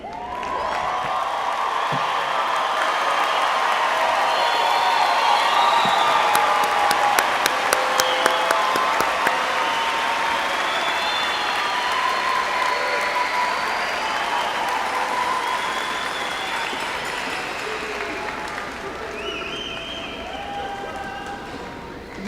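A big crowd at a college commencement ceremony claps continuously and loudly, with whoops and cheers rising in the middle before the applause slowly fades, and a few voices are heard throughout.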